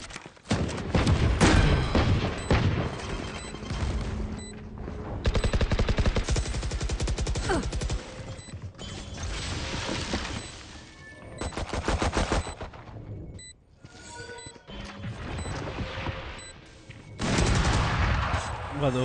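Rapid gunfire during a team attack in the tactical shooter Valorant, dense automatic bursts and loud shots stacked through the whole stretch, with brief lulls between volleys and voices talking over it.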